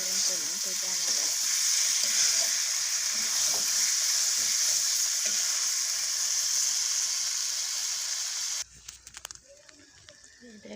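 Small fish fry in a pan with olives and tomatoes, a loud continuous sizzle with bursts of stirring, close by, ending abruptly into quiet clatter.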